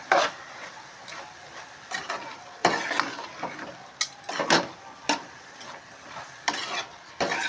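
Cashew nuts and mushrooms in a curry being stirred in a pan, with repeated scraping strokes over a soft sizzle, fairly close and steady, with no talk.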